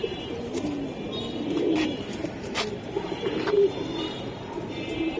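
Silver Giribaj pigeons coo close by in soft, repeated throaty bursts over a steady murmuring background, with no talking.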